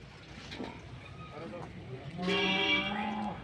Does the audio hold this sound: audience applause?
no